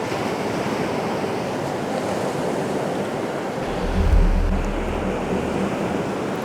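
Surf crashing onto a beach at sunset, a steady broadband wash of breaking waves with a deeper, louder surge of water swelling in around the middle before easing back.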